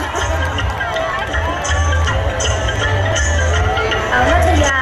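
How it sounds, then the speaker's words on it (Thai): Crowd of supporters cheering and shouting throughout at a beauty pageant on stage, a dense steady roar with rising bursts and voices mixed in, continuing loudly for the whole stretch. "กองเชียร์อยู่ข้างล่างนะคะส่งเสียงเชียร์"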